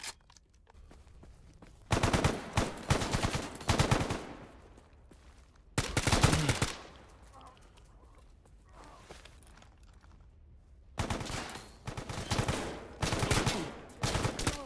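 Automatic gunfire from the shooter game S.T.A.L.K.E.R. GAMMA bursts out in three loud rapid volleys separated by quieter pauses, the rattling shots close and dominant, with faint movement noises between bursts.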